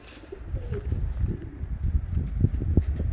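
Pigeons coo in low throaty bursts, close by and overlapping, with fluttering and shuffling among the birds.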